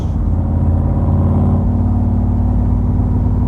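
A Roush fuel-injected engine with individual throttles in a Factory Five Cobra pulls hard with a loud, steady low drone. It sounds close and continuous, with no voices, apparently from inside the car while it is being driven.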